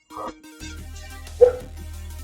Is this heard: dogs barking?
yes